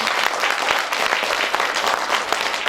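An audience at a Kazakh community event applauds loudly and steadily, dense clapping sustained throughout with no pause.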